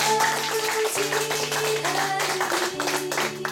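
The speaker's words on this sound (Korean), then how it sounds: "영광의 박수를 드리겠습니다." Applause at a church team meeting: a dense patter of clapping from a gathered congregation, fairly loud and continuous, mixed with sustained background music.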